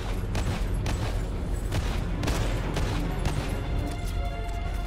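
Gunfire at a monster in the old-school horror survival game Evil Awaits comes as a rapid, continuous barrage of loud, punchy shots with booming echoes, sustained across the whole moment.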